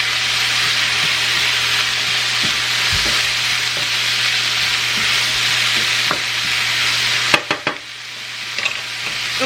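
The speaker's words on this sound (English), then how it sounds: "Just a really quick stir-fried cabbage to go with dinner." Cabbage stir-fried in a pan for a quick home dinner gives a steady, loud sizzle and crackle throughout, with a few sharper clatters of a utensil against the pan near the end.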